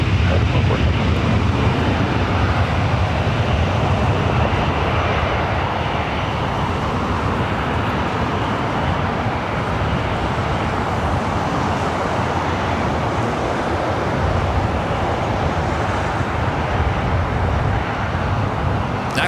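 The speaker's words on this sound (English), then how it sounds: "We're waiting for 2 departures off the other side." A departing jet at LAX, heard from across the field, makes a continuous broad roar that stays loud and steady throughout, with a faint radio voice mixed in.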